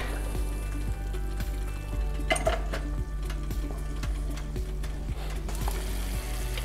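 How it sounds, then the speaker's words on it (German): Chicken teriyaki fries on a Tefal OptiGrill at its highest setting, a steady close sizzle with repeated clicks and scrapes of a utensil stirring or tapping against the grill, and no talking. "Ich lasse es jetzt noch mal so höchstens 5 Minuten hier bei der höchsten Stufe braten"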